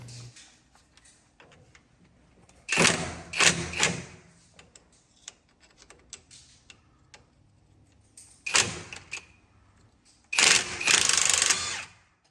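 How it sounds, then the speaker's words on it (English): Several bursts of sharp metal hammering drive an adapter onto rusty Allen head bolts on a Silversides bus, with loud clusters of blows separated by quieter pauses. "they're pretty rusty, so I'm pounding this in to get it to grab good"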